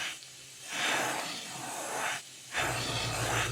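Several airbrushes loaded with paint for a spring craw fishing lure, spraying in two long airy hissing bursts with a short pause between, steady and close.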